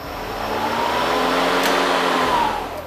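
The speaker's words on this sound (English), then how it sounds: "To engage the blades, press and hold the power button, pull back the baler." A Kobalt 40V cordless self-propelled lawn mower with its blade spinning, a steady loud electric whir that ramps up, holds, then winds down as the blade stops, no talking.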